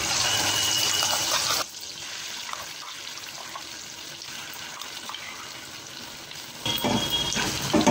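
Cumin seeds and masala sizzle in a hot pan for masala vangi, a steady hissing fry that is loud at first, drops to a softer crackle, then surges loud again near the end, with no voices.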